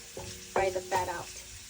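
Pork fat frying slowly in a pan for zhajiang noodles, a steady low sizzle broken by two louder bursts of scraping and stirring, close and without talk.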